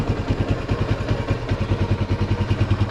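A 1976 Honda XL175 motorcycle engine runs on a hot day, a steady, close, mid-pitched thumping idle with an even, rapid pulse and no voices over it.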